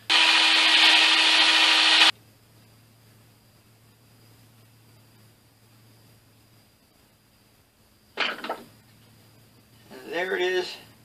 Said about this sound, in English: And now I'll drill out the front and add the two screws